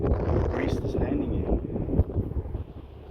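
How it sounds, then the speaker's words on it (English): Gusty wind buffets the microphone in a steady low roar beside an RC Top Flite P-51D Mustang coming in to land, swelling and easing over a flying field while a person speaks throughout. "There's the wind. Now see, now it's gusting."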